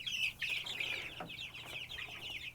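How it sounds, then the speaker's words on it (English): A young, fuzzy-feathered pet chicken clucks and peeps in quick, high chirps, close and fairly quiet, in a short run of calls with a brief flutter in the middle. "we got to show you this funny chicken"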